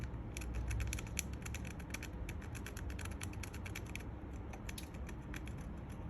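A plastic chopstick scraped over corroded aluminium to knock off sharp edges: quick repeated scratchy strokes in a regular rhythm, close but faint, over a low background rumble.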